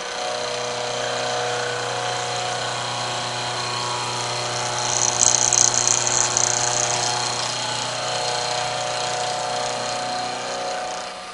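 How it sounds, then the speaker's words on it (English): Milling machine cutting a flat in a part during direct indexing, a steady loud motor whine with a harsher cutting surge in the middle before settling back to a constant drone. "we'll turn the milling machine on, and we will move the cutter through the part"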